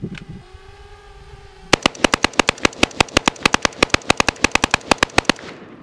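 Rapid gunfire from a rifle fitted with a Franklin Armory BFS III binary trigger, about two dozen loud sharp shots in a fast, fairly even rhythm after a short quiet lead-in.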